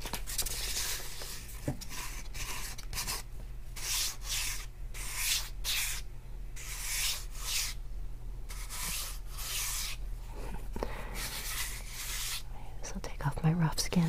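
Sandpaper held in a small handheld holder scrubs wood in steady close strokes, a rhythmic rasping rub repeating back and forth, with soft whispered talk over it.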